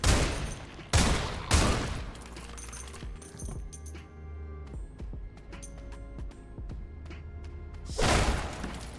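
Gunfire in the game Sulfur: loud sharp shots in bursts at the start, followed by metallic clicks and mechanical reloading noises, then another heavy volley near the end.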